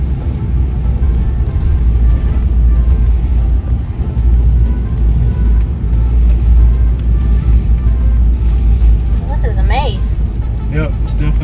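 A car driving slowly through a cruise port parking area gives a steady low engine and road rumble inside the cabin, with people talking throughout.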